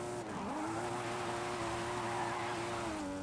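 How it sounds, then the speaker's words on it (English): Continuous engine roar with a sustained tire squeal as a Volvo slides in the video game Forza Horizon 5, loud and steady throughout. "This car does slide really nice."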